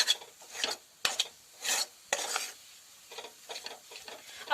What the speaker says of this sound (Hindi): तो अब इस तरह हम इसको अच्छे से थोड़ा सौटे करेंगे